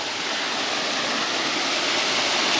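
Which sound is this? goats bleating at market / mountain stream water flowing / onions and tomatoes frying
mountain stream water flowing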